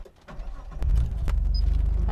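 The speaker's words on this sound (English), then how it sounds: "And there, the car is on." A stock RB25 engine in a Nissan Skyline R34 GT-T cranks with a few clicks and rumbles, then catches and settles into a steady, close, low idle. No one speaks.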